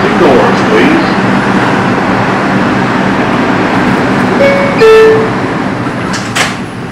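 An R142 number 2 subway train rumbles loud and steady on the IRT Eastern Parkway Line between Borough Hall and Franklin Avenue, heard from inside, with a brief tonal chime or horn near the end and no talk.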